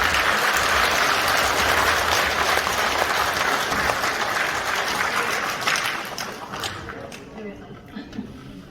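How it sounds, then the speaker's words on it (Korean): A hall full of political party members at a training event in Gumi, South Korea, applauds loudly to welcome a speaker. The dense clapping holds steady, then thins out and fades to scattered claps near the end. "나오실 때 큰 박수로 환영해 주십시오."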